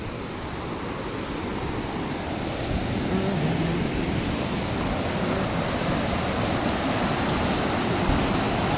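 A mountain river on the trail to Tsho Rolpa in Nepal rushes in a steady, dense roar of flowing water. The sound is close and continuous, swelling slightly after a few seconds, with no clear talk over it.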